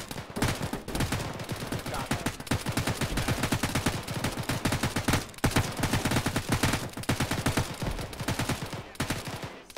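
Relentless automatic gunfire in a military shooter game, a dense, loud stream of rapid shots with brief pauses, near and continuous throughout.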